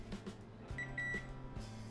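A short electronic beep from a microwave convection oven preheating, with a few brief tonal chirps, over low appliance hum.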